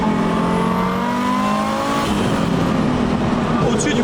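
A 1000 hp Audi S2 accelerating hard on an open road, its engine note climbing loud and close through the gears with a brief shift break midway, heard from inside or near the car.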